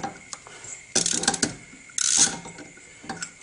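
A ratchet tightens scooter bolts in a cross pattern, in small increments up to 14 pounds during a Zuma upgrade. Two bursts of quick ratcheting clicks stand out over a quiet background, with a few lighter ticks between them.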